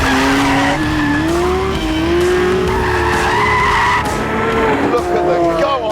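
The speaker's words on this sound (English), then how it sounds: "Look at the go on that Lamborghini!" A Lamborghini supercar running on synthetic fuel accelerates hard, its engine wailing and rising in pitch with tire squeal, loud and sustained throughout with no talk over it.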